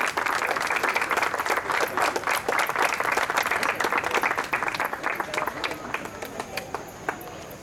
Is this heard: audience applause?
yes